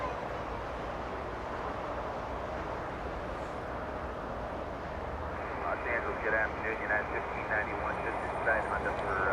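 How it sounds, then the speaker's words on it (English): A United 737 airliner taxis at Los Angeles International Airport, its steady engine roar broad and continuous, with a higher whine rising partway through and wind buffeting the microphone. "Little United 737 taxiing."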